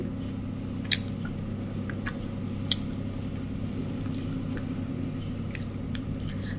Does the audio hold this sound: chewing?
yes